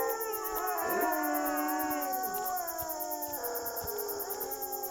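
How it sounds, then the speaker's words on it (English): Wolves howl in a forest at night, several long wavering voices overlapping and sliding in pitch, close and loud over a steady high insect-like drone. "It's now nighttime, and you can hear the wolves and forest getting restless."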